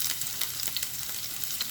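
Garlic dropped into a hot pan for a Filipino labong (bamboo shoot) dish with tom yum paste, giving a steady, close, broadband sizzle throughout with light crackles and no talking.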